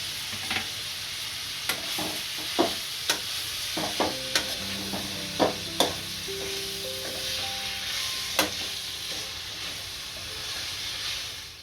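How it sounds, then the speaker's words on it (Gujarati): Spinach leaves sizzle steadily in hot oil in a pan, a constant close frying hiss broken by a series of sharp clacks and scrapes as the greens are stirred, with no talking. "આ ભાજી નાખીશું ભાજીને સારી સેડવી લેશું"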